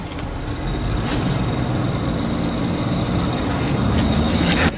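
A 2013 Ford F550 4x4 rollback flatbed truck running, a steady loud broadband engine and road rumble heard from inside the cab with no talking.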